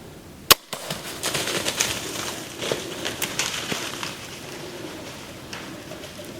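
A single sharp shot fired at a whitetail deer from about 20 to 25 yards during a rut hunt, one abrupt crack near the start and then low rustling and movement.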